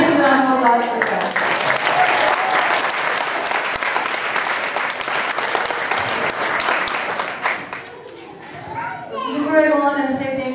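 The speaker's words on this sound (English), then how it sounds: "So another big round of applause for that." A crowd claps in sustained, dense applause for several seconds, fading out as a voice begins speaking near the end.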